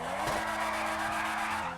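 A sports car's engine revs hard in the video game GTA 5, with a steady loud roar and rising tone, close and continuous throughout.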